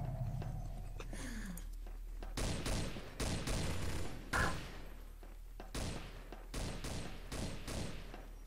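Gunfire in the video game Garry's Mod, Stalker mode: a quiet opening gives way to rapid bursts of loud shots and bangs that keep repeating through the rest of the stretch, with no talking over them.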